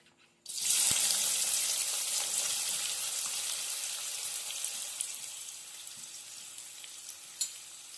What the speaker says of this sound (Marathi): इथे मी कढईमध्ये तेल तापत ठेवलेलं ते तापलेलं आहे तर त्याच्यामध्ये आता मी कांदा टाकून घेते